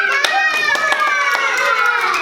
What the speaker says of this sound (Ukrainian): А вмію дітки плескати в долоні